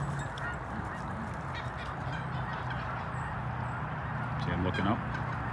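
A flock of geese honks overhead above a farmyard where livestock guardian dogs watch the poultry, steady overlapping calls over a busy background that swell louder near the end.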